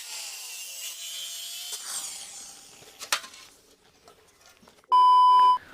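Seat tubs are being cut out of an old village-style rotating swing ride, a quiet rasping cut that scrapes on for a few seconds with a sharp clack partway through, and then a loud electronic beep ends it.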